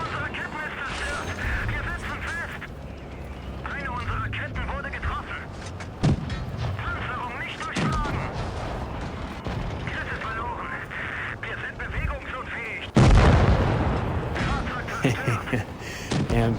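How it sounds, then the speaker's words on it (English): Tank cannon fire in World of Tanks Blitz, with an IS tank fighting Panzer IVs: heavy booming shots and impacts at intervals, loudest near the end, under ongoing talk. "these Panzer IVs taking shots at them"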